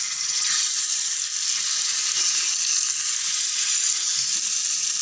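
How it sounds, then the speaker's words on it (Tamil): Fish frying on a dosa griddle for a sankara fish gravy, giving a steady, dense, close sizzle that holds without break and with no voices. "கொஞ்சம் கொஞ்சமாக மீன் போட்டு எடுத்துக்கலாம்."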